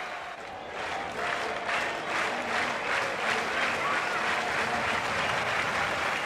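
Cricket crowd at Adelaide in a match between Australia and Pakistan, clapping as a new batsman walks in: sustained, even applause from a large stadium audience that swells slightly and holds steady, without commentary over it.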